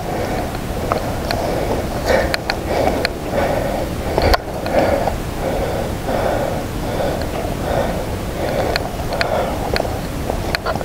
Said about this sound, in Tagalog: Hingal no? Nadidinig nyo ba mga kabalero?